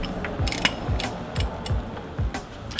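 A socket ratchet clicks in short bursts while loosening the oil drain bolt on a Classic Mini sump, about six crisp ratcheting strokes at an even rhythm, close and clear with no speech.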